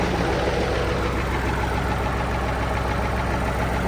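A tractor engine idles steadily with a low, even chugging rumble, close and continuous throughout, no voices.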